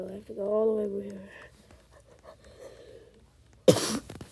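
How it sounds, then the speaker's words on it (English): A sharp burst of coughing near the end, loud and close, after a stretch of quieter talking and breathing. "Sorry about my cough."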